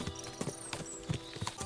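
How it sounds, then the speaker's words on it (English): Horses' hooves clip-clopping on ground in the medieval game Kingdom Come: Deliverance II, a quick irregular series of hollow knocks from several animals, fairly close and moderately loud. "What a lot of horses"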